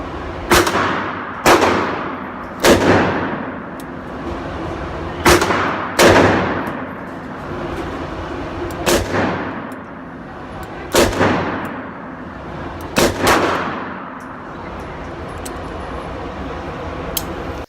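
Repeated gunshots from a Smith & Wesson M&P 340 scandium-frame .357 Magnum revolver, about eight sharp, loud reports at irregular intervals of one to three seconds, each with a short echoing tail and no talking between.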